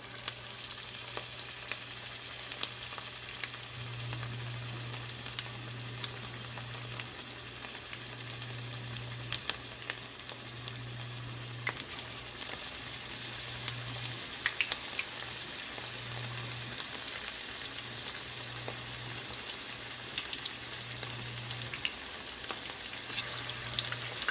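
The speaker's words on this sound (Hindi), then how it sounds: "रखने के बाद हम इसके अंदर इस तरह से कीमे के छोटे छोटे बॉल बना के ये और इसके अंदर डालना शुरू कर देते हैं" Small balls of raw minced meat for gola kebab frying in hot oil, a continuous dense sizzle with scattered pops and crackles, close and steady, with no voices.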